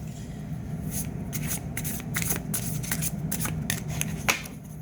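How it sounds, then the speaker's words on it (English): A deck of cards being shuffled close by: quick bursts of riffling and soft slaps repeating for a few seconds, with no talking. "Just giving it a quick shuffle."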